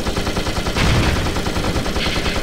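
Machine guns fire in the Warbirds WW1 flight simulator game as a fast, continuous rattle of rapid shots. Loud and unbroken for the whole stretch, with a heavier thump burst partway through and no speech.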